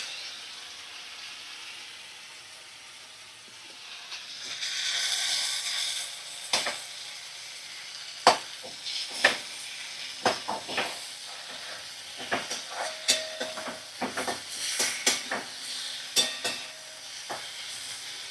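Food sizzles and crackles as it fries in a pan with green chillies in a home kitchen. A steady hiss rises partway through, broken by sharp stirring clicks and scrapes, close and fairly quiet, with no voices.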